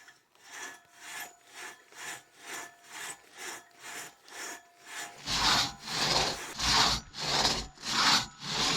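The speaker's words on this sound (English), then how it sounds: "the reason why these saws are so long is to clear all the material out of the center" A long crosscut saw cuts through wood on a mountain trail at Minto Pass, its steady rhythmic back-and-forth strokes rasping close by and growing louder and heavier partway through, with no talking.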